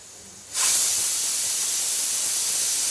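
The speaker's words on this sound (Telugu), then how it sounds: "పప్పు అయితే విజిల్ వచ్చేసింది, ఒక విజిల్." A pressure cooker on a gas stove, cooking dal, lets off its whistle: a sudden loud burst of hissing steam that starts sharply and holds steady to the end.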